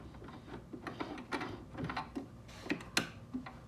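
A sewing machine backstitches a short length of fabric for a scrunchie, giving a close, irregular series of mechanical clicks and whirring bursts with brief pauses.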